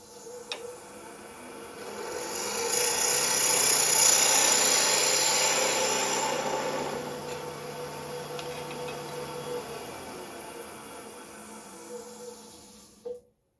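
A 3/8-inch spindle gouge cleans up the shoulder of a parting tool cut on a wood lathe, a steady hissing scrape over the motor's low hum, swelling and fading as the cut proceeds.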